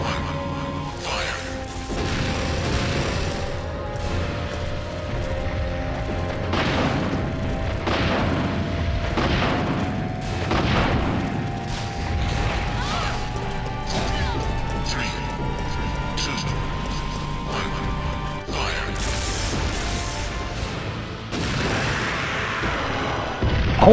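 Weapon fire in Resident Evil 3 Nemesis: repeated heavy booming blasts and crashing impacts hit through a dense, continuous game soundscape with a rising mechanical whine, while people talk over it.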